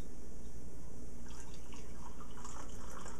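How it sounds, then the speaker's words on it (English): Coffee poured into a cup, a steady close trickle of liquid with light splashing over a constant broadband hiss. "Let me pour you a cup."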